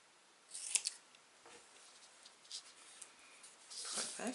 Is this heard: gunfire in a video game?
no